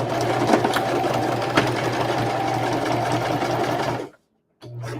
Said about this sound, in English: I'm just sewing it on the line.